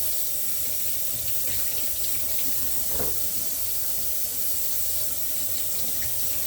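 Eggplant rinsed under a running kitchen tap, a steady close rush of water splashing into the sink for several seconds with faint handling noises and no speech.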